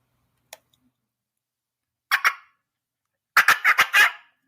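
A hand-operated turkey call imitating a hen's cutting: a lone tick, then a quick pair of sharp clucks, then a rapid burst of five loud, excited clucks, all close and alone in silence.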